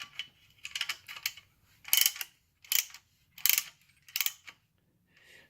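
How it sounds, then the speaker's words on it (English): A camper wheel chock's top ratchet being cranked to press the wheels apart, giving close, loud bursts of metallic clicking in repeated strokes with brief pauses between, no talking. "And then there's a ratchet on the top."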